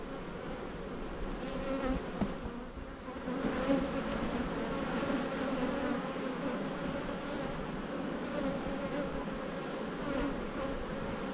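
Honey bees buzz steadily around an open hive during a colony inspection, a dense, fairly quiet drone that carries on throughout with no talking.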